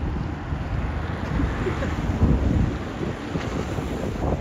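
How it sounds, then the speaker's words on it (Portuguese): Strong wind at the far south near Ushuaia, roaring steadily and buffeting the microphone in a loud, continuous gusty rush. "Caraca, que vento!"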